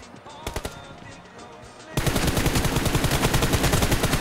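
Rapid automatic gunfire from the BGMI battle royale video game, a short burst near the start followed by a sustained loud stream of shots with no talk over it.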